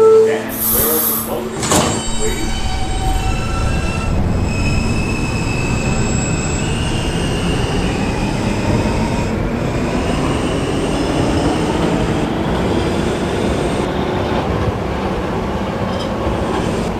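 An R subway train running via the N line at night rumbles steadily along the track, with a brief high wheel squeal near the start and a continuous roar throughout, heard from inside the car.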